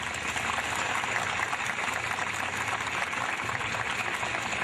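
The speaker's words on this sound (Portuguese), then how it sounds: "E eu aproveito para pedir dos familiares uma salva de palmas pessoal" Family members in a crowd applaud at a military recruit ceremony of an army construction engineering battalion in Brazil, a steady, dense wash of clapping that holds evenly throughout at moderate distance.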